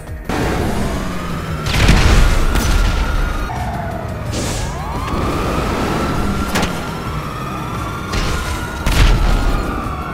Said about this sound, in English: I exploded myself!